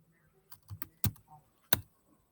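A few quick taps on a computer keyboard while someone searches online, heard as sparse separate clicks, close and fairly quiet in a calm room.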